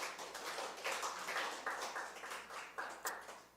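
A church congregation claps together in steady rhythmic applause, a quiet, even run of hand claps that keeps going throughout with no talking over it.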